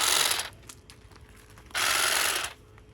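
A SAKER 20 volt cordless pruner snips through old zinnia stems in a garden bed, giving two short bursts of whirring motor and blade noise with quieter clicks and rustles between them, no talking.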